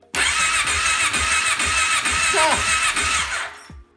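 A Kawasaki Brute Force ATV engine cranks, catches and runs loudly with a rough, steady mid-pitched roar for about three seconds, then cuts off with a brief squeal.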